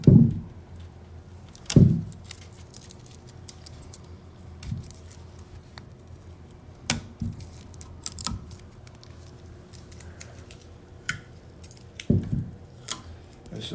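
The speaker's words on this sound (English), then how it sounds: "if I can get this tape off" Tape peeling off a paper scoring sheet for a non-typical antler rack, heard as a few close, loud ripping pulls near the start, another around the middle, and a last one near the end, with light rustling and handling between.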